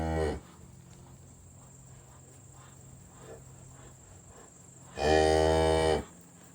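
A cow and her young calf moo, with a loud, close bellow at the start and another long, strong moo near the end, over a steady background of insects and crickets on a farm.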